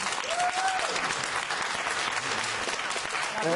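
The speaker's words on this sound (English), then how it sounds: "A lot of 16 and 17-year-olds applauding." A studio audience of teenagers at a televised political debate in Glasgow applauds loudly and steadily, a dense wash of clapping that fills the whole stretch, with a brief whistle or cheer near the start.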